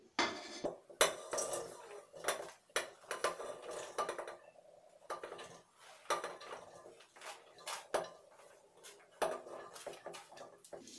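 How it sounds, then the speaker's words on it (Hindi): Vegetables tumbling into a steel pressure cooker during home sambar prep, giving repeated clattering metallic clinks and knocks in uneven bursts, close and fairly quiet, with no talking. "इनको मैं सबको कुकर में डाल देती हूँ।"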